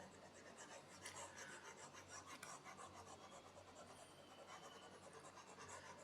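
Chalk writing being erased off a classroom board, a continuous faint dry rubbing and rasping sound with no speech.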